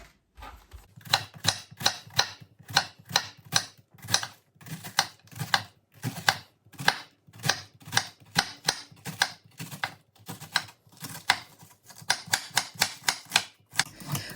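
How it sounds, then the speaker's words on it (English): A knife slices a halved cabbage thinly for curtido on a cutting board, a steady run of crisp, close chopping strokes with brief pauses, loud and alone. "I just slice it really thin"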